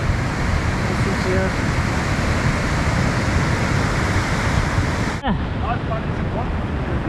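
A flooded river in Kullu, Himachal Pradesh, rushes in a loud, constant roar of broadband water noise that covers everything, with a brief drop near the end as the sound shifts.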